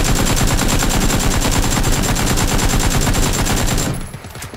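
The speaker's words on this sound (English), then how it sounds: "someone was shooting at us" Automatic gunfire in the video game PUBG: a loud, rapid, evenly spaced string of shots that fills most of the few seconds, then cuts off and fades quickly into quiet.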